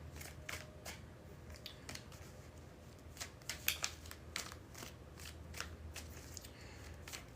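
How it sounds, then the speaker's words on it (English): Rapid, crisp riffling and flicking of playing cards being shuffled, a steady run of snaps close up with no voices. "Make sure this deck is good and shuffled."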